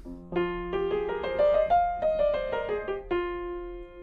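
A melodic instrument plays a Dorian minor scale, rising and then falling note by note at a steady pace, clear and alone.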